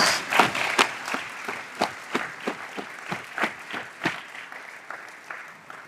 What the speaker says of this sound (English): So please give yourselves a rousing round of applause.